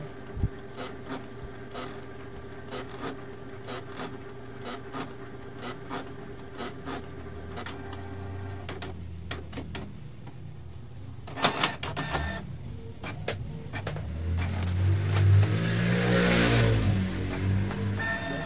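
A Canon MP237 inkjet printer runs its automatic cleaning cycle, with buzzing motor whirs and repeated mechanical clicks, then louder grinding and whining near the end, heard close and alone.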